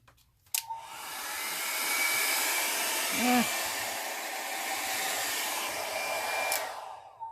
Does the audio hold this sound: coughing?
no